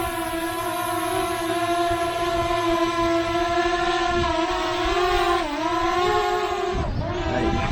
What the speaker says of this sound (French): j'arme les moteurs et je décolle automatiquement